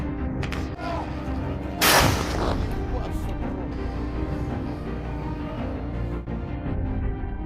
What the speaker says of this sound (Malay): Letupan itu dirakam dari darat di pihak Rusia.